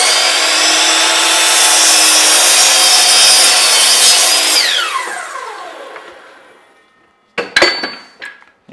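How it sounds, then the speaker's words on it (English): A miter saw cross-cuts a wood panel piece: a loud, close high-pitched whine as the blade bites through, then the motor spins down with a falling pitch, followed by a few sharp knocks as the workpiece is handled. "So I'm going to make a mark right here at 13, and I'll cross-cut this piece."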